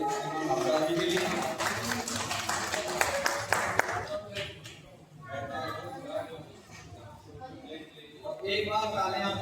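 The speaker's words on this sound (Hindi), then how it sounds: "एक बार जोरदार तालियां हमारे महाराज जी के लिए" Hindu devotional gathering in Ayodhya with an audience clapping and applauding for a Maharaj, dense clapping loud for the first four seconds, then thinning under crowd noise and voices before rising again near the end.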